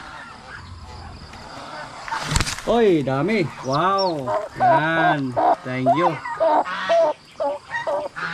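Turkey chicks and other fowl on a farm in the Philippines give honking, goose-like calls in a close run of repeated cries, while a person speaks briefly nearby.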